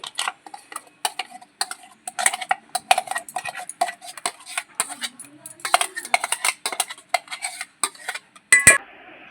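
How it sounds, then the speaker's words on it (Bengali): Mashed banana and mango paste is spooned into a bowl, with a close run of sharp clinks and scrapes of a utensil against the dish in an irregular rhythm. "পাত্র নিয়ে নিয়েছি এর মধ্যে পেস্ট করা কলা আর আম দিয়ে দিচ্ছি"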